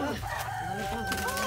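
An agitated fighting rooster crows at a cockfight in Timor-Leste, a harmonic crow rising over steady crowd noise and murmuring voices.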